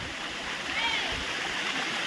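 A waterfall pours down from the hills at a picnic spot, making a steady, loud rushing wash with no gaps for the whole moment.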